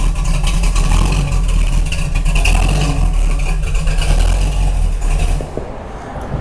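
A big block Chevy Camaro engine rumbles steadily at the roadside, a loud, deep, continuous drone with a lopey idle before it drops away near the end.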